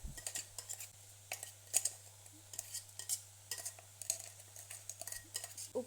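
A utensil stirring ground coconut paste into a pineapple stir fry in a pan, with light scraping and clinking strokes at an uneven pace, close by over a steady low hum.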